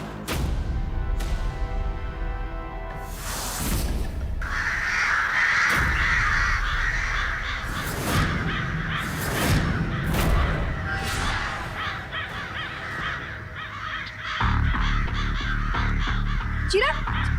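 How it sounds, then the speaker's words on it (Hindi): Crows caw loudly and repeatedly in a noisy, agitated flock, layered over a domestic scene from a Hindi TV serial, with people speaking over the calls. "कौवे पागल हो गए क्या?"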